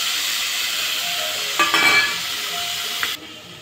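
Paneer cubes with ginger garlic paste frying in hot ghee, a steady close sizzle and hiss with a brief louder burst of spattering as the pieces hit the pan, no voices.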